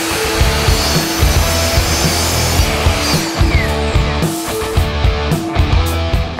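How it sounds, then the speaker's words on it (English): A saw cutting through 2x4 wooden boards to length for an outdoor bench, giving a loud, continuous rasping grind close up that runs unbroken throughout with no voices. "Next, cut 7 2x4 boards to 5 feet."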